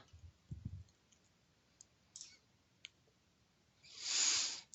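A few sparse, sharp computer mouse clicks in a quiet office setting, isolated single clicks spaced irregularly, followed by a soft rustling swell at the end.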